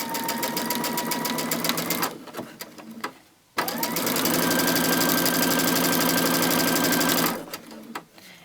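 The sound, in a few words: sewing machine stitching fabric with a quarter-inch foot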